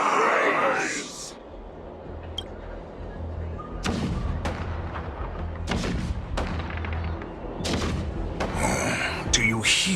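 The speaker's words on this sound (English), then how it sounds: "Do you hear that? The rumble of the cannons." Deep booms of cannon fire in Honkai: Star Rail thud and rumble at irregular intervals over a low battle din, with sharp bursts between them.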